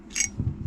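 Small metal parts of an AR-15/M4 bolt carrier group, including the bolt and cam pin, are handled during reassembly, a quick close metallic click followed by soft clunks.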